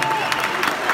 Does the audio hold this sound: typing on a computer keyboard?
no